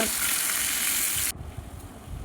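Fish, salted and coated in turmeric, sizzles loudly as it half-fries in oil in a pan, a steady hiss that cuts off abruptly partway through and leaves only quieter low kitchen rumble.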